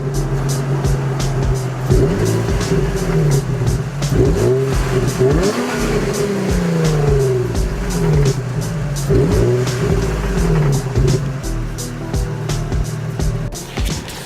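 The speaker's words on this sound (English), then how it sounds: "Want to get a couple revs." A Nissan G35 coupe engine with a muffler delete revving repeatedly, rising and falling in pitch several times, loud and close with an idling rumble between revs.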